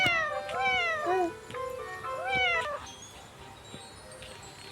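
A kitten in the Roblox game Doge head escape meows three times in quick rising-falling calls, clear and close, then the game ambience continues alone.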